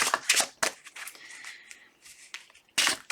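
Several quick riffling bursts of tarot cards being shuffled, crisp and close, separated by short pauses, with a faint scraping sound in between.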